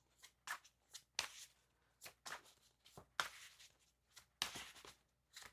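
A deck of cards is shuffled by hand in a quiet room, a series of soft riffling bursts and taps repeating in an uneven rhythm, close and faint.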